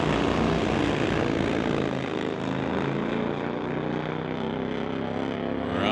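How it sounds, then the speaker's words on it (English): Pro Dragster drag racing motorcycles launch down the strip at a bike drag meet, making a loud, sustained engine roar that fills the clip and stays steady throughout. "Here we go with a couple of bikes that are in the Pro Dragster category."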